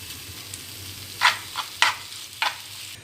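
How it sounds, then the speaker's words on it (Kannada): Ragi roti cooks on a well-heated griddle, a soft continuous sizzle with three or four sharper hissing bursts, close and moderately loud with no voices. "ಫಸ್ಟ್ ಹೆಂಚು ಚೆನ್ನಾಗಿ ಕಾಯಿಸಿಬಿಟ್ಟು ಆಮೇಲೆ ರೊಟ್ಟಿ ಹಾಕಬೇಕು"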